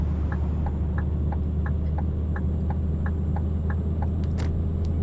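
A modded lowloader truck in Euro Truck Simulator 2 drones with a steady, loud low engine rumble while pushing for speed, with a regular ticking clicking over it and brief higher chirps near the end.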